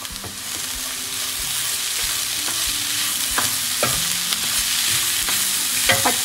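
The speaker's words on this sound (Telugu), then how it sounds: "ఇప్పుడు ఈ మసాలా మొత్తం పొటాటోస్కి పచ్చి బాగా ఫ్రై అవ్వాలి" Potatoes fry in a coconut and green chili masala and are stirred with a utensil, giving a loud, steady sizzle broken by repeated scraping clicks against the pan.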